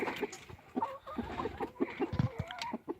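Backyard chickens cluck and murmur close by in a flock of hens with a rooster, soft irregular clucks and short calls with some scratching noise and no speech.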